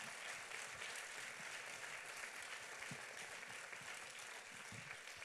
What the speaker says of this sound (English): So we have a huge round of applause for those behind the scenes.